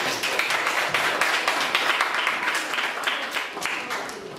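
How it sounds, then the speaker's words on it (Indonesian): Classroom applause for a student group: steady clapping from many hands at moderate distance, lasting several seconds with a few claps standing out. "Tepuk tangan dulu untuk kelompok 1."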